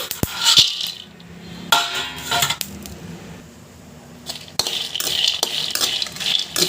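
Peanuts tipped into a pan with dried red chillies on a low flame for roasting, heard as several sharp rattling clatters and scattered ticks of nuts on metal between quieter pauses.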